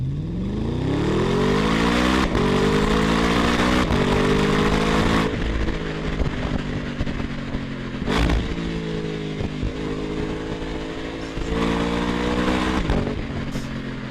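A car engine in a played-back recording, revving repeatedly with rising and falling pitch, loud and close, broken by sharp clatters and brief drops between pulls.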